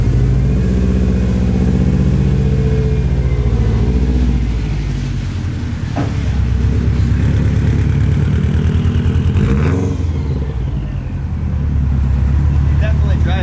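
A rebuilt Subaru WRX engine hums and rumbles loudly at close range while the car is driven, the pitch rising and easing with throttle, with voices talking over it.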